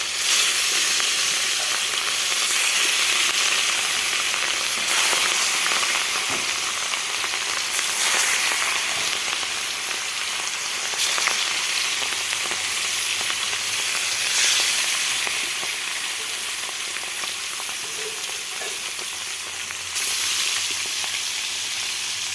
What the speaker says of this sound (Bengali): আমার মাছটা ভাজা কিছু হয়ে গেছে, এখন আমি উল্টে নিচ্ছি।